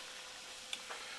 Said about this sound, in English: Down here I've got a pot of boiling water